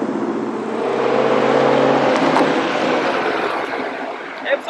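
A Ford Mustang GT350 drives off with a low engine hum that swells and then settles, heard from nearby for a few seconds.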